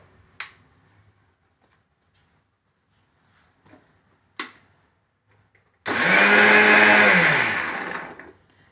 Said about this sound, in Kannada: ಈ ಥರ ಇದನ್ನು ಮಿಕ್ಸಿಗೆ ಹಾಕ್ಕೊಂಡು